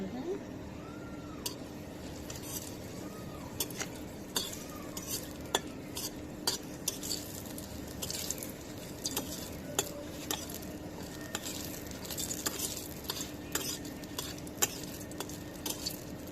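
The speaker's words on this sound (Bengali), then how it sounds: "মরিচ ভাজা হয়ে গেছে" Dried red chilies fry in a pan with a faint sizzle. A utensil scrapes and clinks while stirring, and a cat meows now and then in the background.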